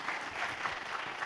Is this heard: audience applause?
yes